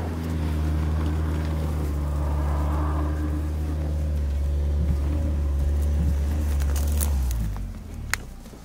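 Hyundai Creta engine at full throttle with the wheels spinning in a rut: a steady loud low drone and rumble held for several seconds, easing off near the end as a brief clatter comes through.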